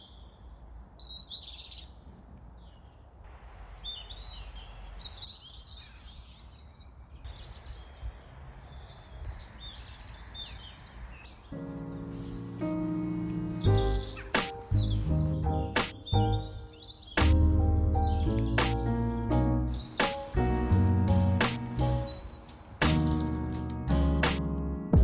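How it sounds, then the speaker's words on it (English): Birds sing and chirp in a Scottish garden, with scattered calls at first, then a denser chorus of bright, repeated tweets and trills close by. "I'm just gonna play you some soothing bird sounds."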